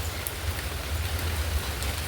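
Rain falls steadily outdoors, making a soft, even patter and hiss with a low rumbling undertone, moderately loud and without any voices.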